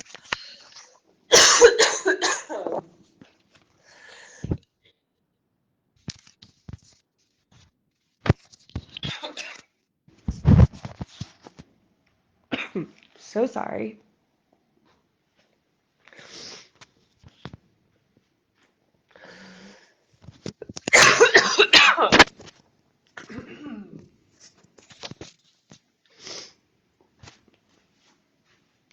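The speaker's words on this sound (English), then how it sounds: "One moment as I cough." A person in a stretching class has a coughing fit, with several harsh, close bursts of coughing separated by quiet gaps and brief throat sounds, and a short apology spoken between them.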